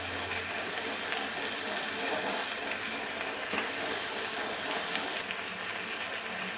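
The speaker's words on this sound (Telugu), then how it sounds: "ఇప్పుడు ఇందులోకి కాస్త టమాటాలు వేసేస్తున్నాం." Gongura leaves frying in a pan with tomatoes just tossed in, giving a steady, close sizzle and crackle with faint stirring that stays even throughout, no voices.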